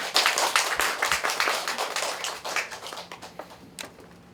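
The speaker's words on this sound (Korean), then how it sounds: "박수로 맞아주세요" An audience at a book concert breaks into lively applause, many hands clapping together, then fading to a few scattered claps.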